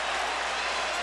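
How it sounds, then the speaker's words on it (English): Boxing arena crowd roaring as spectators rise to their feet, a dense, steady wall of noise with no single voice standing out across the short burst. "Crowd rises to its feet again."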